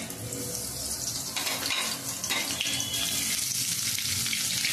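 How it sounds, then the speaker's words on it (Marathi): Cumin seeds dropped into hot oil sizzle steadily, a loud, continuous hiss and crackle close by with no talk. "तेल आता आपलं गरम झालेलं आहे। त्याच्यामध्ये मी हे जिरं टाकते।"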